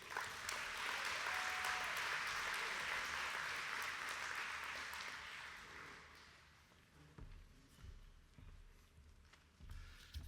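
An awards-ceremony audience for a Ford Lincoln dealership's honors breaks into sustained, dense applause that fills the first several seconds, then thins and fades into scattered claps and room noise.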